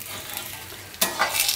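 Thepla, a Gujarati broccoli and beet flatbread, roasts on a hot griddle with a soft steady sizzle, then a sharper burst of frying crackle near the end.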